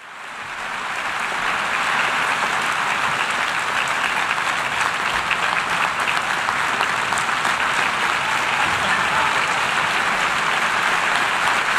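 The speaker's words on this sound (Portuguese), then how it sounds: "O longo e efusivo aplauso" Sustained, dense applause from the assembly at the United Nations after the Pope's speech, loud and steady from start to finish, a continuous wash of many hands with no pauses.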